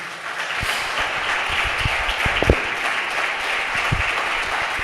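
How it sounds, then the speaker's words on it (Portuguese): A church congregation applauds steadily through a worship service, a dense wash of clapping with a few sharper claps standing out, filling the room for several seconds with faint voices underneath. "Você pode aplaudir ao Senhor?"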